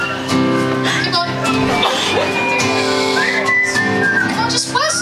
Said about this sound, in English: Come on, just whistle